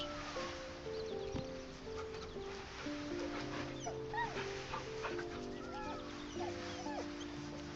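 Dog whimpering in Baldur's Gate 3, small whines and yips rising over a steady bed of ambient game music and rustle, with no talking.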